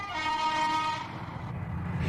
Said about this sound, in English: Today's high-speed trains race down the bank from Little Bytham to Essendine at 125 miles an hour.